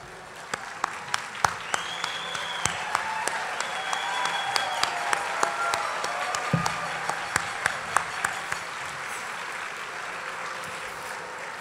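Audience applause for standing Leadership Circle members at a Texas Alliance for Life gathering: a steady, moderate patter of many hands, with sharper individual claps punctuating the wash throughout, over a faint room murmur.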